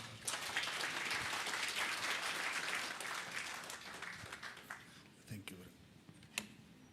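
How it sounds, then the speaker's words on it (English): Sustained applause from a conference audience at the SADC Sustainable Energy Week after a presentation, dense and steady for several seconds before thinning into a few scattered claps. "Can we give him another round of applause, please?"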